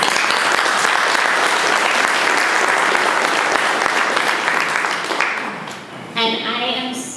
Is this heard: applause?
yes